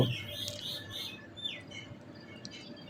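Scattered bird chirps and tweets over a low background hum, a few brief calls clustered early, then quieter faint chirps.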